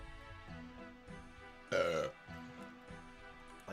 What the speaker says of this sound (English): Like burp into the mic.